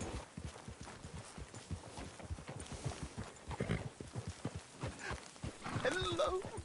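Horse hooves clop in an uneven rhythm in Red Dead Redemption 2, moderately close and partly buried under talking voices, with a short vocal sound near the end.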